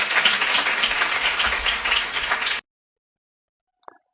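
Church congregation applauding together, a dense roar of clapping hands that fills the hall for a few seconds and then cuts off abruptly, followed by silence and a brief faint noise near the end.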